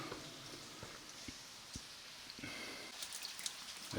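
Rain falling in the rainy season in Vang Vieng, a faint continuous patter with scattered individual drops tapping on surfaces, quiet and steady.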